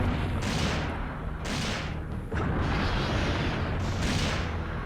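Magnum rounds fire in Resident Evil 3 against a giant worm monster, heavy booming blasts repeating roughly every second amid a dense rumbling game soundscape, with no talking.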